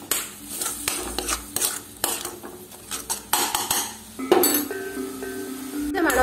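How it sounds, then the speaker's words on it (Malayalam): Spoon scraping and clinking through beetroot kichadi mixture in a metal pan, a run of irregular close stirring strokes and knocks, alone with no talk. "അല്ലെങ്കിൽ നമുക്കിങ്ങനെ ഇളക്കി കൊടുത്താലും മതി ആ പച്ചമണം പോവാൻ വേണ്ടിയിട്ട്"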